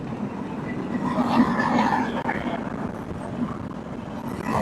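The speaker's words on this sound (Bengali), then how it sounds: "পঞ্চগড় এক্সপ্রেস পঞ্চগড় আমাদের উত্তরবঙ্গের পঞ্চগড় এক্সপ্রেস চলে গেল" The Panchagarh Express passes along a rail line beside open paddy fields in northern Bangladesh, producing a steady loud rumble and wheel roar that holds for the whole stretch without a break.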